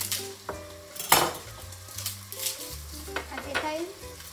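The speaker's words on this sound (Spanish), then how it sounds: "Y yo voy a darle un poco de caña al ajo" Garlic frying in a pan with squid and vegetables, a soft steady sizzle under repeated scraping stirs and a few metallic clinks of utensil on pan, close by.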